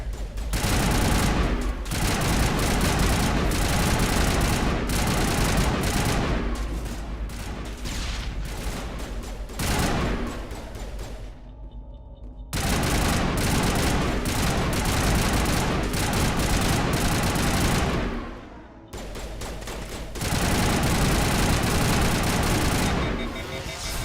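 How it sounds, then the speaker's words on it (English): Dense, loud gunfire in the video game Mass Effect, sustained bursts of rapid shots with brief pauses between volleys, close and overwhelming. "Yeah, so you're gun overheats, so you don't have to reload."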